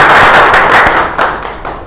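An audience at a business seminar claps to welcome franchisees, a loud, close burst of hand claps with sharp individual slaps that fades slightly toward the end.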